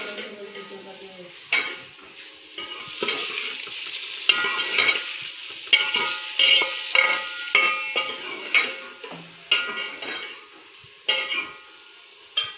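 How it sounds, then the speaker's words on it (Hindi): Onions frying in a pan in a village kitchen: steady oily sizzle with frequent scraping and clinking strokes of a spoon stirring, close and fairly loud throughout. "तो प्याज को हल्का ब्राउन होने तक पकाऊंगी"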